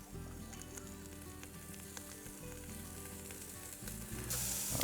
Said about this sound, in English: Give that a little bit of a flash on the grill here.